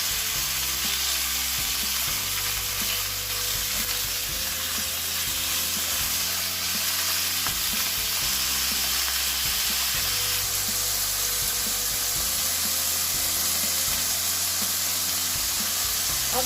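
Cubes of boneless chicken fry in a pan, giving a dense, continuous close sizzle and hiss with faint occasional stirring throughout.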